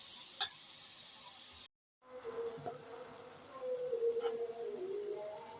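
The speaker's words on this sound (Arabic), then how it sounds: "نشوح شوية." Chicken liver and onions sauté in a pan with a steady, close hiss of sizzling fat. The sizzle cuts out briefly, then returns with faint scraping and stirring.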